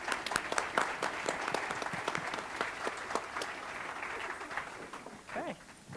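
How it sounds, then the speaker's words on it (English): Scattered applause from a conference audience at a South Jersey legislative event, a mix of sharp individual claps building into steady clapping, with a few voices and some talk near the end. "So can you join me in a round of applause for our legislators?"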